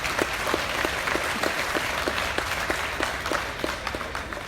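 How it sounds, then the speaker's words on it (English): Crowd applause at a livestock show's grand drive, with steady, dense clapping that stays fairly loud and even throughout, with no talk over it. "Please give Noah a big round of applause."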